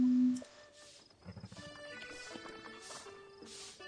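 Rapid hoof clip-clops from a horse in The Legend of Zelda: Breath of the Wild over a bright, synthetic game-like musical tone, moderately loud and steady.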